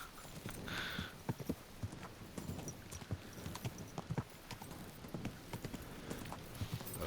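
Horse hooves clip-clop steadily in the medieval game Kingdom Come: Deliverance II, an irregular run of sharp hoofbeats over a dense background bed, with no talk.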